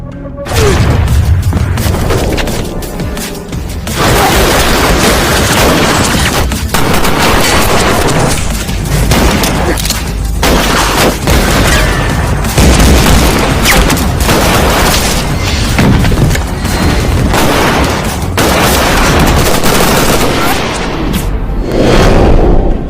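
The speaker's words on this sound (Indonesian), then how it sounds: "tiba-tiba saja baku tembak telah terjadi" Movie shootout with heavy gunfire and explosions: dense, loud, continuous volleys of shots and booming blasts fill the whole stretch, with only a couple of brief lulls and no talk.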